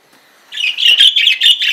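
Pet birds in a home chirp and squawk close by, a loud, busy run of high calls that begins abruptly and continues steadily without pause.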